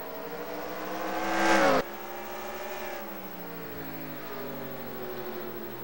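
NASCAR race cars roaring around the Bristol bowl in the NASCAR Racing 2003 game, a loud engine whine swelling and dropping sharply as one passes, followed by a steady droning pack of engines.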